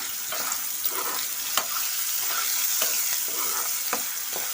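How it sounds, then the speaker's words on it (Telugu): Chicken fry masala with onions sizzles loudly in a pan while a spoon stirs and scrapes through it in repeated strokes, close and steady, with no talking. "ఇప్పుడు ఒకసారి కలుపుకుందాం"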